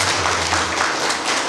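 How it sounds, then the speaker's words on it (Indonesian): Applause from the audience at a school cultural celebration in Indonesia marking National Education Day, a steady dense wash of clapping with a low hum underneath, holding at an even level throughout. "Sekali lagi tepuk tangan."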